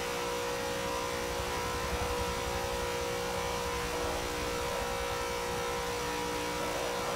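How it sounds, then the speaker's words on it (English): A Ford V8 Supercar engine in the racing game Forza 7, a steady, sustained drone held at high revs for several seconds, moderately loud and even, with no talking over it. "V8 supercar."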